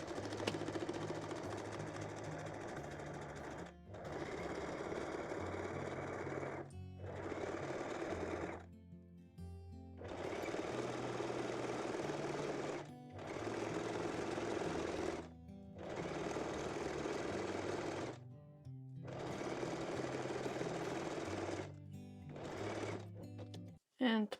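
A sewing machine stitches the back crotch seam of lace panties in a steady run of whirring bursts, each a few seconds long and separated by short pauses, close and fairly loud throughout.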